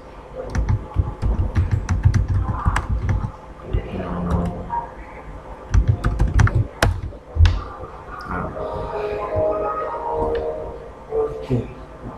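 Password keys tapped on a computer keyboard while setting up a Windows server, brief clusters of clicks mixed with someone talking in French throughout.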